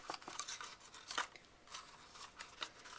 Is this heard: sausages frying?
no